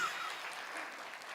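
A congregation claps briefly during a church worship service, the applause soft and distant, with no talking over it.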